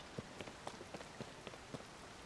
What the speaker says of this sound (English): But it's raining in my game.